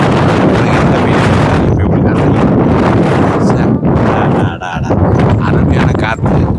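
Strong wind roars steadily against the microphone, buffeting and rumbling throughout with a brief dip near the end.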